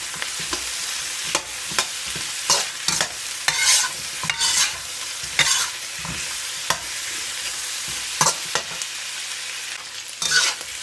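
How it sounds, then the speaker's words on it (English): Butterflied lamb leg being stirred and fried in a pan, repeated scraping stir strokes at an uneven rhythm over a continuous close sizzle, with no voices. "And just keep stirring, mix it well."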